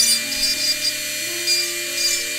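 A carving tool works a piece of wood in short scraping strokes that repeat roughly every half second, with a steady tonal hum from the tool running underneath, close up.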